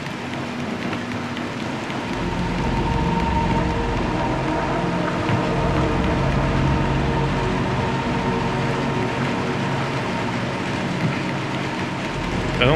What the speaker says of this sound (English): Nice and rainy.